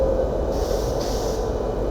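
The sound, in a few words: Patna Tejas Rajdhani Express train departing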